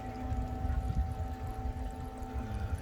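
Water runs steadily through the pipes and buckets of an inexpensive homemade hydroponic tomato system, a soft, continuous flow with a faint low hum beneath it.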